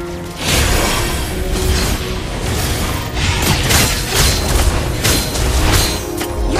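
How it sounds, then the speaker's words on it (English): Heavy booming crashes and mechanical impacts as a turret is destroyed in a MOBA-style game, continuous dense explosions and clatter filling the whole stretch, loud and close. "Your team destroyed the turret!"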